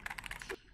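Rapid keystrokes on a mechanical keyboard during a typing test, a quick run of crisp, close clicks about a dozen strong, then stopping abruptly with no talk.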